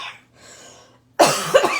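A person coughs hard and close in a quiet room during a card-making session, a sharp burst followed by a second rougher cough, after softer breathy throat sounds.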